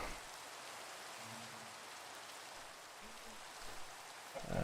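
Steady rain falls in Minecraft, a soft, even hiss throughout with faint tonal game sounds on top.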